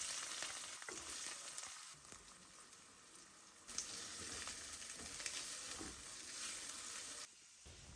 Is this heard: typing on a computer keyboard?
no